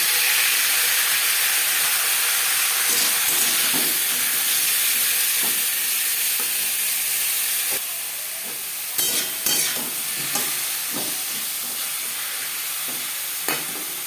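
Raw mango frying lightly in a small amount of refined oil in a kadai for jelly chutney: a steady, loud sizzle and hiss that eases slightly partway through, with occasional stirring knocks.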